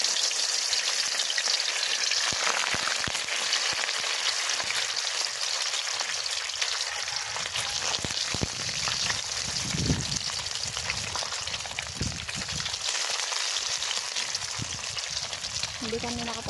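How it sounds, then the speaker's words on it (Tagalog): Spam fries outdoors in a pan, a steady dense crackle and sizzle that runs the whole time with occasional louder spits and pops, close and continuous with no voices over it. "mag-prito ako ng spam"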